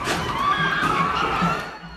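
A crowd of protesters in Charlottesville shouts and yells as police try to disperse them. The roar is loud, dense and continuous and runs through the whole moment.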